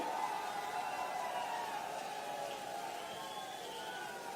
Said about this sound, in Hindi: ऐसे किरदार के धनी माननीय अशोक जी गहलोत साहब के लिए एक बार जोरदार तालियां हो जाएं